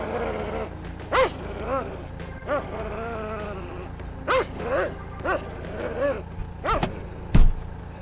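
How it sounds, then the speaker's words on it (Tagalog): Dog barking outdoors during a water delivery, several separate barks and yelps spread through the clip, moderately near, over a steady low hum with faint background voices. "Ayan, may aso."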